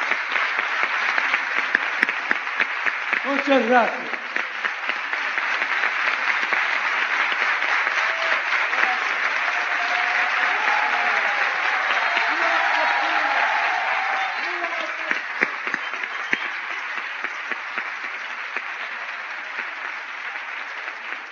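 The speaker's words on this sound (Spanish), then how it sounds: "Y nosotros batemos palmas." A lecture audience at a library talk applauds at length, dense steady clapping filling the room for about twenty seconds, with a brief spoken thanks near the start and a few voices murmuring underneath.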